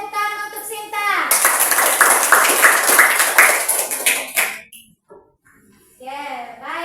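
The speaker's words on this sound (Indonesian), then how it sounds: "kita tepuk tangan untuk Sinta" An Indonesian history classroom bursts into a round of hand clapping for a student named Sinta, loud and close for a few seconds, with children's voices heard before and after the applause.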